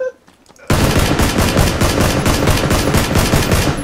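Sustained burst of automatic gunfire in PlayerUnknown's Battlegrounds, starting abruptly after a brief quiet moment and continuing loud and rapid, with shots packed in a dense rhythmic stream.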